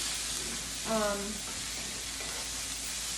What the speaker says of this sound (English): You're gonna sit it on the stove with your egg mixture for just a few minutes